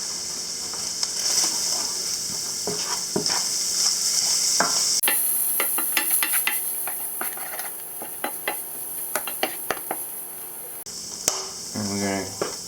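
Ground meat sizzling as it fries in a pot for chili, with a spoon scraping and stirring in irregular clicks and knocks over a steady close frying hiss.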